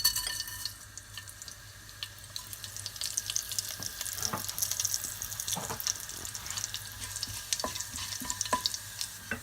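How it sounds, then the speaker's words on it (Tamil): Seasoning spices crackling in hot oil for a Tamil-style mutton curry, a steady loud sizzle and spatter with scattered pops throughout, no voices. "இதில் தேவையான அளவு எண்ணெய் விட்டு எண்ணெய் சூடாகிட்டுது. தாளிக்கு தேவையான இந்த பொருள் போட்டுடலாம்."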